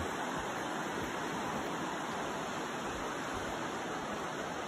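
Creek water flowing beside a hiking trail on the way to Abrams Falls, a constant rushing broadband wash with no breaks, close by and moderately loud, with no talking.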